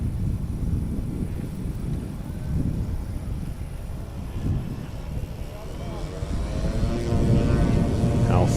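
A STOL propeller airplane takes off at a competition in Pinedale, Wyoming, its engine and prop giving a steady, loud drone that swells slightly as power comes on, with wind noise over the microphone throughout.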